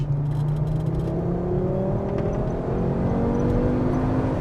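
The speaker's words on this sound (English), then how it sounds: "I'm in third gear now because I'm enjoying this engine too much." A factory sleeper car's engine pulls steadily in third gear, a continuous droning hum whose pitch climbs smoothly as the revs rise, heard from inside the cabin with no talking.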